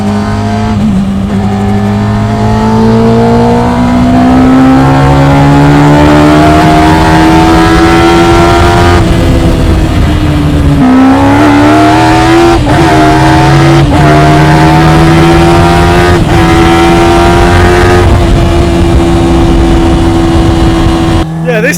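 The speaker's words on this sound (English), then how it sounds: "Me and Joe are sat inside an RX5 MC powered by a Yamaha R1 engine, and it sounds quite good" Loud, high-revving Yamaha R1 motorcycle engine droning from inside an RX5-MC car as it accelerates through rising gear pulls, with voices faintly under the roar.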